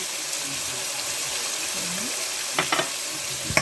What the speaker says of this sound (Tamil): இப்போ நல்லா கிண்டி விடுக்கணும் நல்லா அந்த பச்சை வாசனையெல்லாம் போகணும்